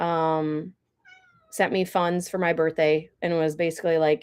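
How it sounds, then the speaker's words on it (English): A pet cat meows near the start with a drawn-out cry, then someone talks at length while faint high mewing sounds drift in briefly. "Yeah, that's our cat."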